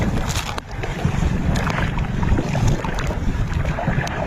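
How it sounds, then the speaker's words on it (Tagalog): A small outrigger-less boat moves across open water, its hull slapping and churning waves while wind buffets the microphone throughout. "nasa bangka kami ni Tito."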